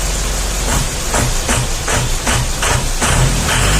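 A Mitsubishi L300 engine with a fault revs unevenly nearby, a rough, rattling roar with repeated surging bursts and a harsh hissing edge.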